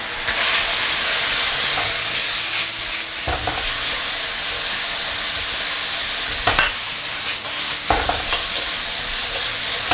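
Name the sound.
vegetables stir-frying in a wok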